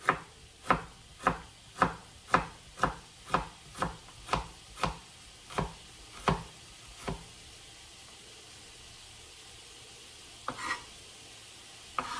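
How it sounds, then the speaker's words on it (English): Knife chopping through about half an onion on a cutting board, a steady run of a dozen crisp, fairly close thuds at an even pace, followed by quiet with one or two later taps. "We sliced about half of an onion here."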